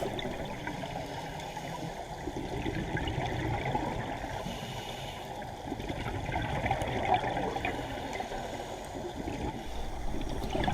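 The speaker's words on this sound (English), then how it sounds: "immersed in the sounds of the ocean" Underwater ocean ambience during a scuba dive off California and Hawaii, a steady muffled rumble and hiss with faint crackling, continuous and even throughout, with no voices.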